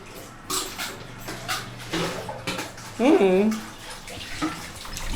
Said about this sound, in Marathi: सायली म्हणजे एवढ्या फास्ट कसं येतं पाणी